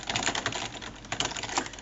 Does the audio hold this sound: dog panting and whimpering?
no